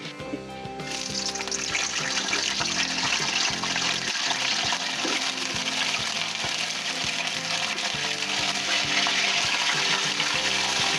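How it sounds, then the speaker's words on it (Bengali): Cauliflower florets frying in a pan for a cauliflower and potato muri ghonto, a steady loud sizzle of oil running throughout with occasional stirring clinks and no voices. "তার জন্য প্রথমে ফুলকপিগুলোকে ভেজে নিতে হবে।"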